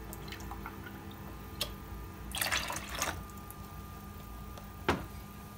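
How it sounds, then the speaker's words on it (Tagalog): Fresh milk is poured into a mixing bowl, making a brief gurgling splash in the middle, with a few quiet drips and clinks before and after in an otherwise quiet room. "ilagay na po natin ang 1/2 cup po na fresh milk"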